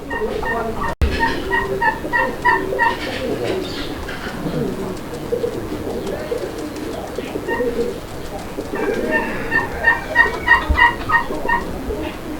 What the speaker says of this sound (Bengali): কবুতর যে ডাকাডাকি করতেছে